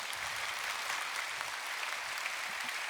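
An audience at a public natural sciences lecture at Seoul National University applauds the speaker, a dense, steady patter of clapping heard from a distance, with no voices over it.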